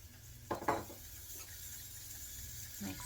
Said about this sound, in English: So I'm going to go ahead and put in my carrots